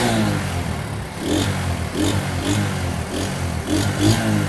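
A Chinese motorcycle, just repaired for a misfiring engine, runs steadily nearby and is revved several times in quick bursts, its mid-pitched engine note rising and falling over a constant idle.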